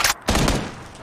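Bursts of rapid video game gunfire in PUBG crack in quick succession, one short volley followed by a longer rattling burst, loud and close.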